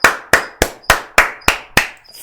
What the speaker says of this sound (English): I need to applaud for that